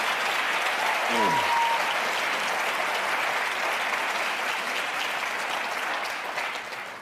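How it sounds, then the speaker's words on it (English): Sustained applause from a debate audience at a Virginia attorney general election debate, steady and full for several seconds before tapering slightly at the end, with no talk over it. "I think this is one time when we ought to just give them both a real round of"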